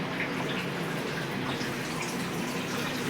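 A glass of water is poured into rice for a dum biryani, a steady close splashing and gurgling stream lasting a few seconds without pause or voices.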